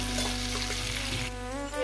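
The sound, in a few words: vegetables frying for lentil dal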